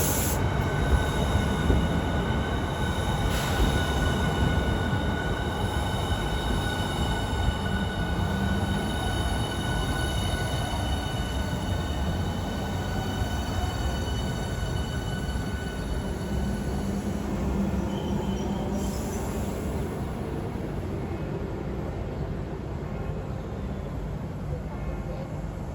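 Class 395 high-speed electric train pulling out of a station, a steady, loud, close rumble with high whining tones and wheel squeal running throughout.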